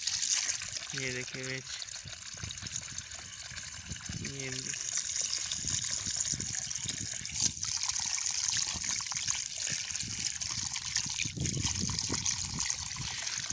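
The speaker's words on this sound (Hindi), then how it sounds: "ये देखें, पानी चल गया, ये गंदा पानी है।" A water pump motor runs and dirty water gushes out in a steady, loud rushing stream, while someone speaks briefly over it.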